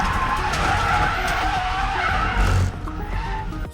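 A race car skids during a crash in a 12-hour race at Snetterton, with loud tire scrubbing and engine noise that drop off abruptly near the end.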